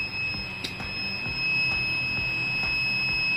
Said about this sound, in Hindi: देखिए बजर बीप साउंड कर रहा है एनी टाइम